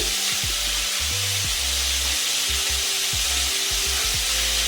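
Onions and salt fry in a pan of oil, a dense, continuous sizzle up close, with low, rhythmic scraping and stirring strokes running steadily underneath.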